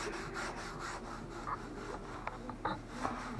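A cloth rubbed with acetone over a spray-painted plastic car bumper gives a steady, close scrubbing and wiping hiss with a few faint clicks, and no one speaks.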